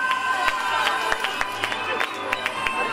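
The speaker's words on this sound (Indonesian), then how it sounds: "Mana tepuk tangannya penonton?" An audience at an anniversary celebration event in Pasaman applauds and cheers, a dense crowd roar with sharp claps scattered through it, loud and close throughout.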